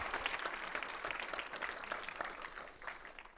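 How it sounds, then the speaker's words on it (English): Applause from a seminar audience at a Falling Walls Lab science pitch event in Leuven, a dense, steady clatter of many hands clapping throughout with no pause or speech. "Ladies and gentlemen, also a round of applause for Alexander."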